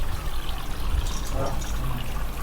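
Water from a motor-driven Nandi waterfall decoration at a Ganesh festival display trickles and pours in a steady splashing stream, with a continuous low hum beneath.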